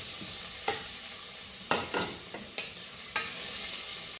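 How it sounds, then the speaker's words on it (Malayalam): Crushed garlic and ginger frying with onions in a pan, a soft steady sizzle broken by several stirring scrapes and clicks, close and fairly quiet, no voices. "അപ്പം നമുക്ക് ചതച്ച് വെച്ചിരിക്കുന്ന വെളുത്തുള്ളി ഇഞ്ചി അതിലേക്ക് ചേർത്ത് കൊടുക്കാം."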